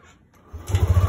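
A Yamaha Aerox 155 V1 scooter, fitted with a fresh battery after a no-start fault, cranks and catches, settling into a rapid, pulsing close-up idle thrum in the final half second.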